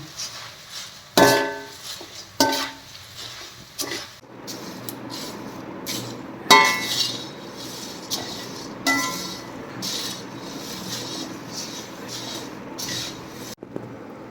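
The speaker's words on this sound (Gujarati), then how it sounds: "હલાવવાનું છે, સાતળવાનું છે આવી રીતે" Puffed rice being stirred and sautéed in oil with turmeric in a pan gives sharp, scattered metallic clinks of a spoon against the pan over a soft, steady rustle, with several louder knocks.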